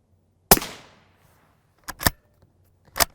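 Rifle rounds strike a HEXAR alumina armor plate: one loud, sharp close crack with a long fading ring, then two more quick impact bangs about a second later, with silence between.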